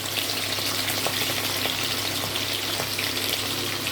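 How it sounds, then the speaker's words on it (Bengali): Potato pieces lightly frying in hot oil make a dense, even sizzle that crackles close and loud without pause, with no voices. "এটা জাস্ট হালকা ভেজে ওই গরম জলের মধ্যে যে নুন দিয়ে রেখেছি ওর মধ্যে ওটা ভিজিয়ে দিব"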